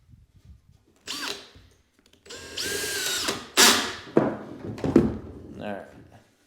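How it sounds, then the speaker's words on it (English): Several short bursts of a power drill whirring close up as it drives screws into wood, separated by pauses, with clunks and a voice speaking in between. "I'm going to run a couple of screws in through the side."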